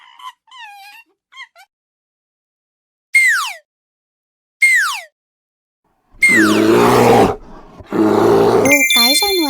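Cartoon bear in a children's animal-sounds game: a few short squeaky chirps and sweeping whistles, then two long, loud, rough roars close up, separated by a brief gap.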